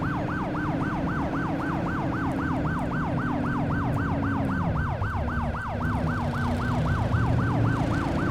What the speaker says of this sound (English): the cars are supposed to move out the way for you when you've got your siren running